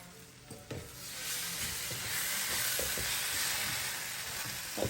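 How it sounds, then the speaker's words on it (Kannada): Masala fries in a pan, a steady close sizzle with soft scraping stirs breaking through it at irregular intervals. "ಮಸಾಲೆಯನ್ನು ಹಾಕಿ ಸ್ವಲ್ಪ ಫ್ರೈ ಮಾಡಿ"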